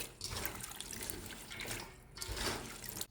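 Soybean sprouts are rinsed in clean water with a little salt. The water swishes and splashes gently in uneven surges, close and fairly soft, with no voices.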